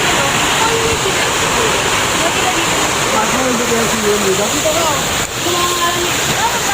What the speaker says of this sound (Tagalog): Pero lakas ng tubig, no?